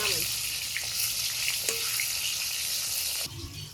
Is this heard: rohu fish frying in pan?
yes